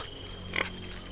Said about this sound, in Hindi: जंगली सुअर।